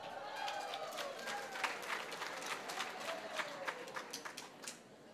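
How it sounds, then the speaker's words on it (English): Audience clapping at an Equity Group Foundation event for a former Alliance High School student, a rising patter of hands with a few louder claps, fading toward the end, while voices talk faintly underneath. "Can we clap for him?"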